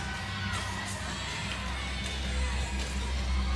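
A crowd at the ACC gymnastics championships, Clemson's home arena, with a continuous roar of cheering and shouting that swells slightly toward the end.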